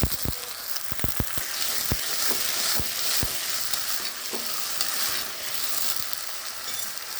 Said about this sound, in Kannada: ಇದನ್ನು ನಾನು ಒಗ್ಗರಣೆ ಒಳಗೆ ಹಾಕಿ ನೀರು ಹಾಕಿ ಬೇಯಿಸೋಕ್ಕಿಡ್ತಾಯಿದ್ದೀನಿ